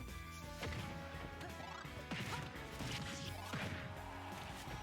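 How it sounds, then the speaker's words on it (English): Forward smash attacks landing in a Super Smash Bros match, several sharp crunchy impact hits in quick succession over busy game music and crowd noise. "just a couple of forward smashes on the guy."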